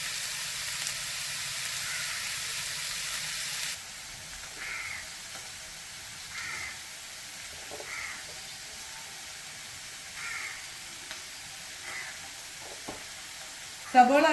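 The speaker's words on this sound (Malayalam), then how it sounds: "സവോള അവിടെ ഇരുന്ന് വഴരട്ടെ" Sliced onions sauté in a pan for a Kerala-style egg roast, giving a steady, quiet sizzle with occasional soft scrapes and taps of stirring. A louder hiss opens the stretch and a sharp clatter ends it.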